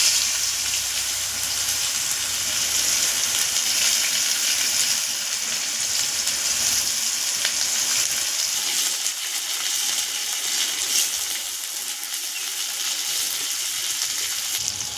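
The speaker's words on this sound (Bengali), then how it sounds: "পেঁয়াজটা একটু লাল করে ভেজে নেব।" Chopped onions fry in hot oil with black cumin and dried chilies, a continuous bright sizzle and crackle at steady loudness throughout.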